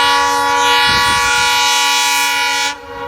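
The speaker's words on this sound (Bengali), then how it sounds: "এখন ট্রেন আইতেছে সামনে" A train rolls past at close range, loud and steady with a sustained horn-like tonal drone over rumbling wheel noise, then cuts off abruptly near the end.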